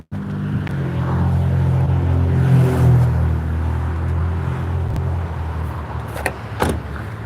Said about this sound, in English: This is the highway too.